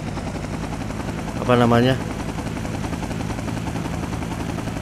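A helicopter in GTA 5 during a zombie survival game at a military base drones as a steady broadband whir throughout, with a brief burst of voice over the rotor noise.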